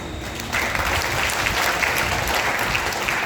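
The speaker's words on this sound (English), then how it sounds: "We need an applause for this." Audience applause at a talk breaks out suddenly and continues as steady, dense clapping from a seated crowd.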